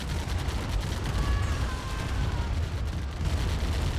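Artillery fire in a real-time strategy video game battle, a dense continuous rumble of distant booms and blasts, steady and loud throughout with no talk.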